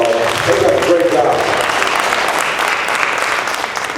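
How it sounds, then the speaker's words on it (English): A live audience at a talk gives three women basketball players a round of applause, sustained dense clapping throughout, with a voice briefly audible at the start. "We all give these ladies a round of applause."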